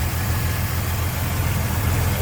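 Steady idle of a 1966 Chevrolet C10 pickup truck engine with dual exhaust, a close, even low rumble holding constant for the whole stretch without talk.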